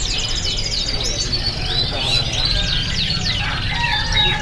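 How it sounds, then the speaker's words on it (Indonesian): Several loper-series canaries sing at once at a bird-market kiosk, with rapid, bright trills and warbling phrases overlapping continuously, fairly close, over a low background hum. "jadi memang sudah pada bunyi untuk kenari seri lopernya"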